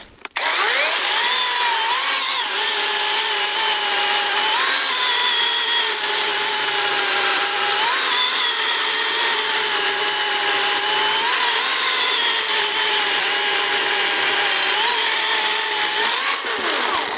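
ABS L-212 cordless battery saw cutting through apricot wood, a loud, close, continuous high motor whine with slight pitch dips as the blade bites, running steadily from start to finish with no talk.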